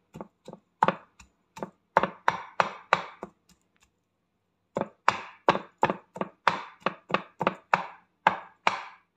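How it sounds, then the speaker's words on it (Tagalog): Pork snout and pig's ear being chopped for sisig on a wooden board: rapid, sharp knife thuds in rhythmic bursts, close and clear, with a short pause midway before chopping resumes. "now we are in the process of chopping the pork snout"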